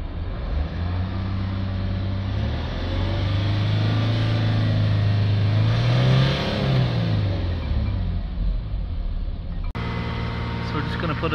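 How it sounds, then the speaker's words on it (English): A Jaguar XF 3.0 engine, with fault codes P2453, P244A and P2BAE, runs steadily at idle with a low droning hum and faint pitch shifts, close by and continuous, with a brief click near the end. "Engine is running."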